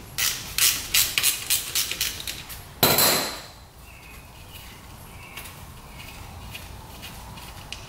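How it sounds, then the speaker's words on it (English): A wrench works the oil drain bolt out of the engine cases on a 2-stroke race quad: a string of sharp metallic ratchet clicks, then one louder clank, followed by quiet. "Oil drain bolt is right there in the center of the cases, so let's get that out."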